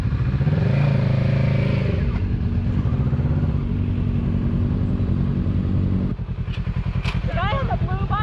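Motorcycles riding along a road, a steady loud engine drone with a shift in pitch partway through, while voices talk over the noise near the end.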